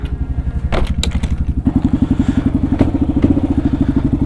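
Kawasaki KLR650 motorcycle thumps to life close by, its single-cylinder engine settling into a loud, rapid, even chugging idle after a few clattering bursts, with no voices.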